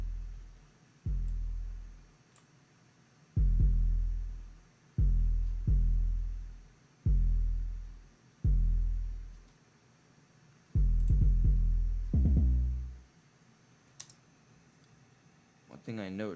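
An 808 bass loop from a music production session plays alone, with about nine deep, booming hits that each decay quickly, set in an uneven pattern with small gaps between them. Near the end come a tighter run of rumbling notes and a few brief clicks.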